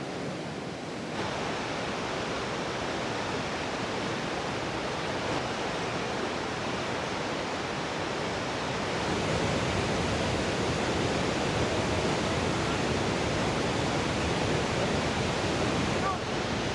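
Waterfall in Banff National Park, a loud, constant broadband roar of falling water that fills the scene without pause, with no voices.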